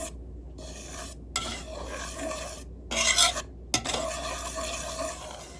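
Rice flour batter stirred in a bowl, a rasping, scraping whisk or spoon sound repeating in close strokes with brief pauses, no voices.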